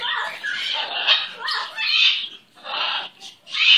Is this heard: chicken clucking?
no